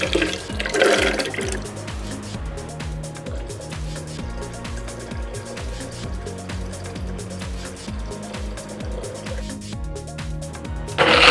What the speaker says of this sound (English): I'm taking 1 cup of almonds and soaking them in 1 liter of water